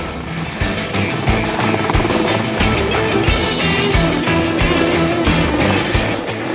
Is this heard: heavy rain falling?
no